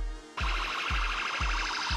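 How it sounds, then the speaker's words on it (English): A police car siren switches on abruptly after a brief quiet lead-in. It holds a loud, close wailing warble with a regular pulsing rhythm. "Police car is a type of emergency vehicle."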